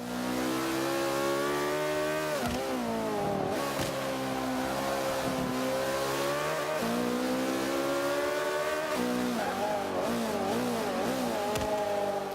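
A McLaren P1 engine in Forza 5 revs loud and constant at high speed, with the pitch rising and dipping at several gear shifts and no talk over it.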